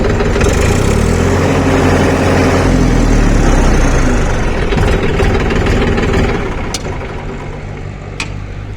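A Massey Ferguson 246 DI Dyna Track 46 HP 4WD tractor idles loudly close by, its diesel engine holding a steady low rumble that eases slightly near the end, with a couple of faint clicks.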